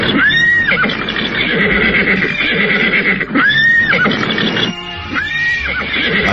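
Several horses neigh and whinny in loud, drawn-out calls that repeat about three times, over a dense background of movement and hoofbeat-like clatter in a dramatized scene.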